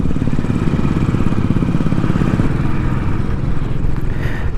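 A motorcycle rides along a narrow route, its engine giving a loud, steady drone close by for the whole stretch, mixed with rushing wind and rumble.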